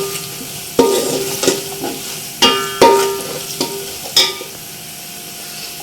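Spices such as garam masala, red chilli, turmeric and salt are stirred into frying garlic and ginger in a pan. A soft sizzle runs underneath several sharp scrapes and clanks of a spoon against the pan, and nobody speaks.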